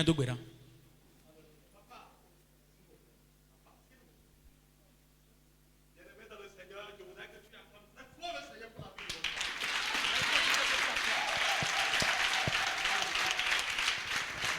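A church congregation breaks into loud applause and acclamation, swelling from scattered sounds and talk into a dense, sustained roar of clapping and cheering in the final seconds.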